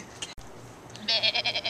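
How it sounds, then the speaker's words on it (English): Sheep bleating close by, a short wavering call rising after a brief quiet stretch, with several pulsing bursts near the end. "Look at that sheep."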